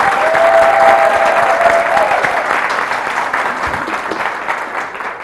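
Steady, fairly loud applause from a studio audience greeting a quiz show finalist, a continuous dense wash of clapping that eases slightly toward the end, with a brief high whistle-like tone early on.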